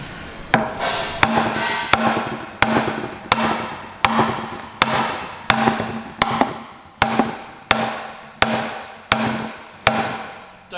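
Heavy hammer blows on a car wheel in a Volkswagen workshop, about fifteen loud, sharp metallic strikes in a steady, even rhythm, each ringing briefly before the next, close by with no talk.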